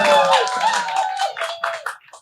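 A studio audience claps at the opening of a talk-show episode, with voices talking over the steady patter of hands throughout before it thins out toward the end.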